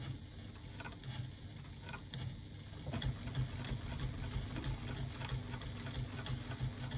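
A domestic sewing machine stitching a quilting project, running steadily up close with a continuous rapid mechanical whirr and needle chatter that picks up in speed and loudness partway through, no voices.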